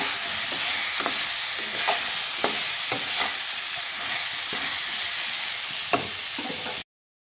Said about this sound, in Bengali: স্বাদ অনুযায়ী নুন, হলুদ গুঁড়ো ভালোভাবে নাড়িয়ে করে নেব।